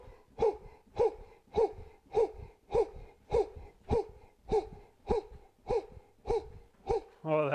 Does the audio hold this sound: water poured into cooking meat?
no